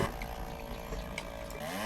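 A chainsaw in the video game Lumberjack's Dynasty runs at a steady, loud buzzing whine while cutting a tree, with a slight rise in pitch near the end. No voices.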